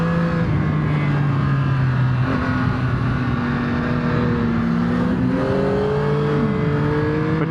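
A 2025 Yamaha R9 triple-cylinder sport motorcycle runs continuously while being ridden on the road, its loud steady engine drone rising and falling in pitch with throttle and gear changes, and no voices over it.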